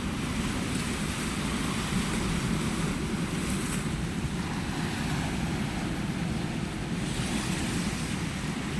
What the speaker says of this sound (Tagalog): Wow, dagat ngayon. High tide siya.